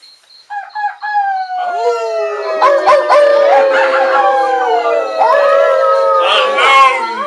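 A lone wolf howls in a long, wavering, sad-sounding call that rises after a few short yips and holds loud and close for several seconds, with layered tones that could be a recorded or imitated howl.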